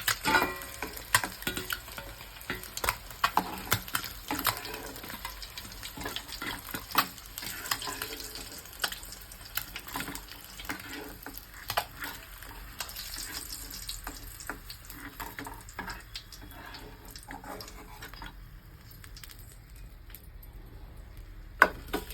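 Eggs frying in a pan for an egg and taro curry, with a steady close sizzle broken by frequent scrapes and clinks of stirring, with no voices.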